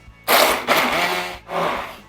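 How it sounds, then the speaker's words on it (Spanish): A kitchen blender whirs through cheesecake batter made with mango and orange juice, running in three loud bursts with short pauses between them. "Utilicen licuadora o licuadora de mano."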